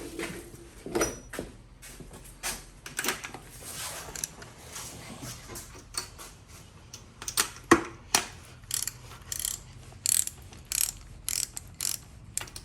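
A ratchet wrench snugs up bolts on a boat engine, giving quiet, close clicking bursts in uneven short runs with pauses between strokes.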